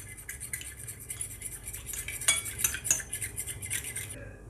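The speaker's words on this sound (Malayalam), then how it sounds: "ഇനി ഇത് നന്നായിട്ടൊന്ന് മിക്സ് ചെയ്ത് കൊടുക്കാം." Oregano, rosemary and salt are mixed in a bowl, with a spoon clinking and scraping rapidly against it in quick, rhythmic strokes. The sound is close and fairly faint, stops abruptly just before the end and has no voices.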